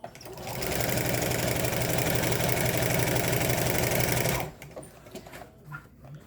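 A sewing machine stitches the waistband of a pair of bummies, running as one loud, steady, rapid mechanical whir for about four seconds before stopping abruptly, followed by faint handling noises.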